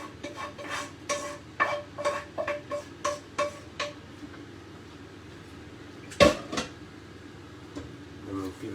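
Peppers, onions and broccoli are tossed together in a bowl. A quick run of sharp utensil clacks against the bowl is followed by a quiet pause, a single loud knock and a few softer taps, with some voice in the background.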